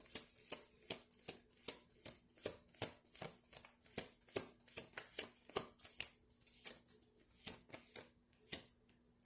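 A deck of tarot cards is shuffled over and over, making soft, even riffling bursts that repeat at a steady pace for the whole stretch, faint and close with no talk.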